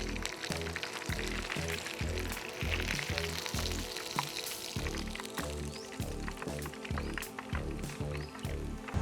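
Pieces of grouper fish frying in hot oil, a steady, loud crackling sizzle that runs throughout over a rhythmic low pulsing in the background.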